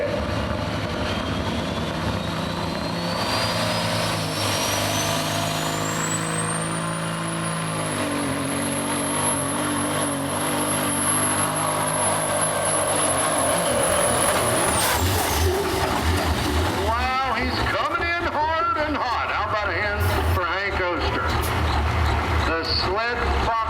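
The tractor pull truck "Scrapper" roars at a truck and tractor pull. The engine drone is loud and continuous, with a high whine that climbs and then falls away. An announcer talks over it in the later part.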